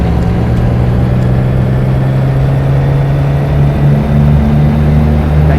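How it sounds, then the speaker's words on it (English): A big Volvo truck engine in American Truck Simulator, a loud, steady low diesel drone with a constant rumbling hum and a slight pitch lift near the end, alone without talk. "Nice engine noise on these big Volvos."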